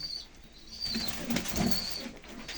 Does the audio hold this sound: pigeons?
yes